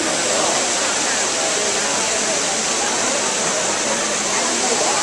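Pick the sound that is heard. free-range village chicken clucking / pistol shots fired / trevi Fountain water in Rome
trevi Fountain water in Rome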